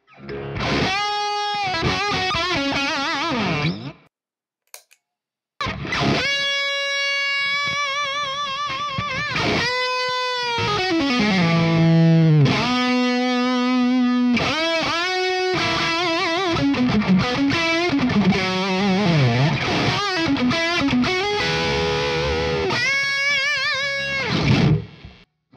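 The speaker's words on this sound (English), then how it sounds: "But it's not mega distortion, so if you want that super searing thing, just throw a little bit of boost." An electric guitar played through a Badcat Jet Black EL84 tube amp with a boost pedal rings out loud and alone, with sustained notes, bends and busy melodic runs in two long phrases split by a short silent gap.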